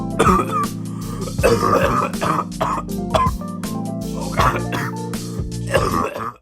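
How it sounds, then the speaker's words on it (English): Repeated harsh coughing fits with throat clearing, close and loud, over a steady humming background tone. "Sorry about that. I was coughing too much."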